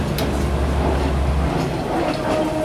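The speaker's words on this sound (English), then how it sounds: "The train's traveling through the market." Rail cars roll past close by through an outdoor market, a steady rumble with faint clickety-clack and a deep engine hum that drops away midway, no voices.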